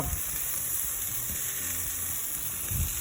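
Steak searing on a preheated, piping-hot kettle grill, a steady close sizzle and hiss of fat and juices with faint crackles throughout.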